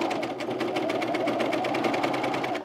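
A sewing machine stitches through a thick pajama pocket in one steady, rapid run of even needle strokes, close and loud, stopping at the end.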